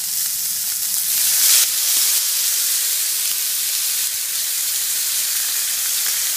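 Lemon juice hitting a hot pan of frying steak, a steady close hissing sizzle that swells briefly near the start and then settles into a constant bright crackle, with no talking.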